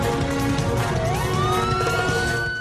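An ambulance siren wails as the vehicle speeds from Vác station toward an accident scene, a rising tone sweeping upward over heavy engine and road rumble heard from inside the vehicle.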